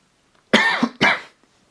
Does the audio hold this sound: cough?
yes